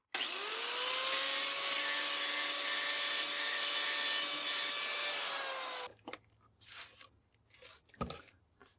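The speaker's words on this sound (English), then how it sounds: "We use a grinder on this just so it's easier for you to see." An angle grinder running on die-cast zinc or cast aluminum produces a steady, high, whining grind for about six seconds. After it stops, quieter intermittent scraping and handling noises follow.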